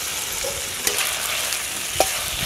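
Mint leaves and tomato sauté in a hot pan for tomato and sesame chutney, a steady close sizzle with two short scraping stirs of the spatula.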